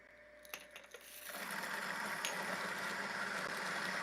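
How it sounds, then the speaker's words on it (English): A 63mm coffee grinder starts with a few light clicks and then spins up into a steady, close, whirring grind that holds at an even level. "I'm just going to start my grinder."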